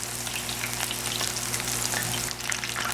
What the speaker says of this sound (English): Try to drop them in individually so that they don't stick together when they're frying.